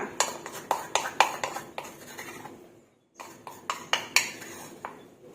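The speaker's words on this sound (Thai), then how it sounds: "เราใส่เครื่องแกงเราลงไปเลยค่ะ" A metal spoon clinks and scrapes against a cooking pot as Thai curry paste with fresh chilies, shallots and garlic goes in for a fish roe curry; sharp, close, irregular taps come in two bursts with a short pause between.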